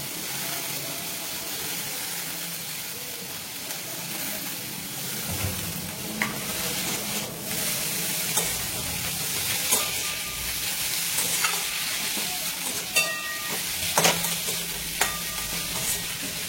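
Tomato and ginger paste sizzles and fries in a pan for dosa sambar, a steady close hiss with scattered stirring scrapes and clinks.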